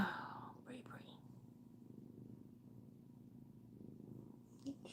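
A female cat purrs softly up close, a low continuous rumble that stays faint, with a soft murmuring voice near the start.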